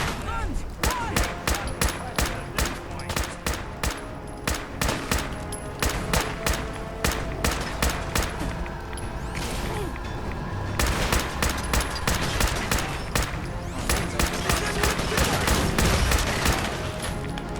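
Sustained gunfire in the game Fallout 4: rapid repeated shots crack in dense bursts with short pauses, loud and close throughout.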